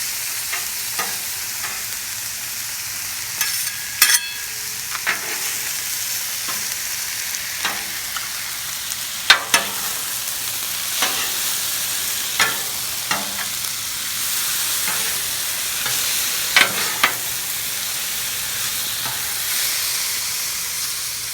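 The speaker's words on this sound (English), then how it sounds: "I'm going to get my shrimp on. Shrimp ain't going to take but a couple minutes to cook." Shrimp sizzling on a Blackstone griddle, a steady close frying hiss broken by sharp scraping clicks and taps as the shrimp are stirred and moved around.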